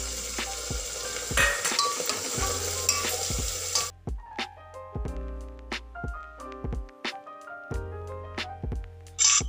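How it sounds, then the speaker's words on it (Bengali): Mung and masoor dal fried with onion in a pan for panchaboti dal, a steady sizzle in the first few seconds giving way to repeated scraping strokes of a stirring spoon and light clinks of utensil against pot, close and clear with no talk. "পেঁয়াজটা ভাজা হয়ে যাওয়ার পর দিয়ে দেব মুগ আর মুসুর ডাল।"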